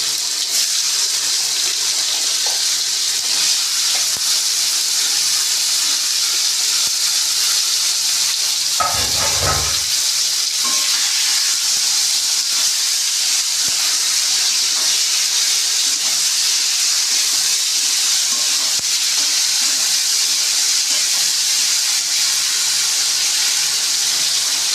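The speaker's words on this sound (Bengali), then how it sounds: "আলুগুলো একটু ভাজা হতে হতে" Potatoes fry in a pan for a catla fish curry, giving a steady, close sizzling hiss for the full length, with a short clatter of utensils around the middle.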